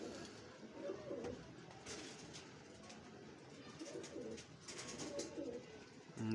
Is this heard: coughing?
no